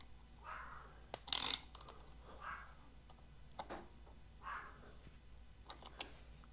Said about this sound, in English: I'm just gonna tighten these guys up a little bit.